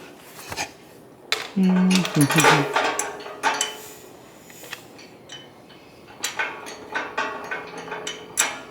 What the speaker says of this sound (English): And now we can put a washer, the little crush nut, and then the nut itself, screw that on.